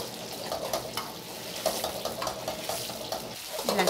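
Turbot pieces sizzle and spit in hot oil in a wok, a steady crackling fry running throughout with faint stirring and no talk.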